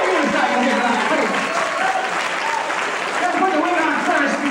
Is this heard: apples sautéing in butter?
no